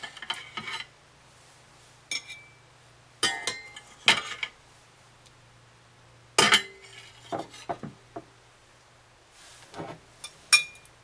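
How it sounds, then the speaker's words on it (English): A spatula scraping and clinking against dishes while almond float squares are moved into a serving bowl, scattered sharp knocks and taps over a quiet low hum. "now I'm just going to use a spatula to kind of remove these little squares into my serving bowl"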